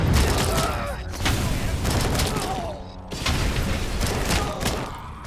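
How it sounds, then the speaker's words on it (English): Grenades go off during a firefight in the video game RoboCop: Rogue City, with loud booms and bursts of gunfire and mechanical clatter filling the scene in two dense waves, and voices speaking over the din. "You keep throwing grenades."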